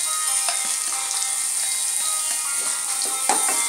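Chopped onions sizzle and fry in melted butter over medium flame while making gravy for malai kofta, a steady broadband crackle with a few brief stirring clicks, close and alone.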